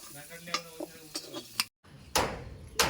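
Potatoes frying in a pan, with a low sizzle under several sharp stirring scrapes, a short cut to silence, then louder, brighter frying and clattering strokes.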